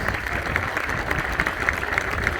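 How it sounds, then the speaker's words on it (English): Round of applause from a crowd at a youth football academy presentation day: dense, sustained clapping at an even level throughout the short burst. "A round of applause, please."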